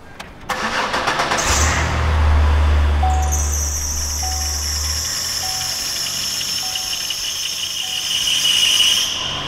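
A Chevy Impala engine starts and then runs steadily at about 2500 RPM with coolant on the belt, giving a loud continuous drone, a low rumble early on, and a high squeal above it throughout.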